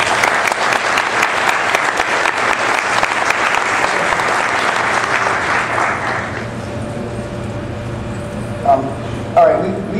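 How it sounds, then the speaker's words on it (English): Audience applause for a panel of speakers at a convention session, a dense steady patter of many hands clapping for about six seconds before fading out, leaving quiet room tone with a few faint clatters. "So let's give them a big round of applause."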